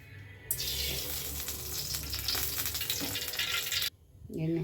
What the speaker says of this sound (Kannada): ಕಾದಿದೆ, ಎಣ್ಣೆ ಹಾಕೋದು.